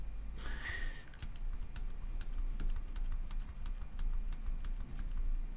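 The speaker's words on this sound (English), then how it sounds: "You simply do that by clicking on the value, and then you just press 0." Values are typed on a computer keyboard in rapid, irregular clicks and taps, close and clear, continuing steadily with no talk.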